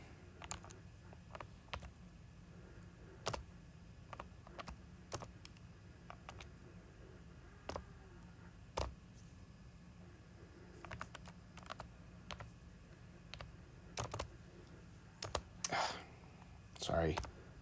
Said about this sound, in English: Having a little bit of a challenge typing this into my calculator.